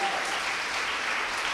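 A church congregation claps for the Lord, an even wash of applause that is fairly soft and holds without a break for a second and a half.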